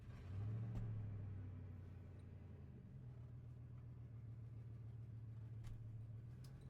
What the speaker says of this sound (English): There's someone always working on cars every time I do this.